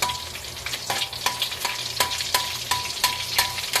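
Tortang alamang (okoy), shrimp fritters made with tiny krill-like alamang, ginger, garlic and onion, frying in oil in a pan, giving a steady close crackling sizzle with periodic sharp spatters, no talking.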